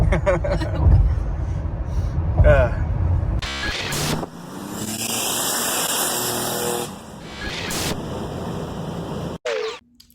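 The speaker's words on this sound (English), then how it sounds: "especially if you accelerate in the bottom, it echoes your car a lot" A car engine roars and accelerates with a boomy, echoing rumble under a bridge, loud and sustained for several seconds before cutting off abruptly.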